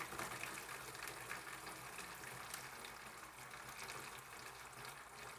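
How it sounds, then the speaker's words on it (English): Sweet tea is poured through a small funnel into a jug, a steady faint gush and trickle of liquid running continuously without pause. "I use this funnel and I pour it into this jug"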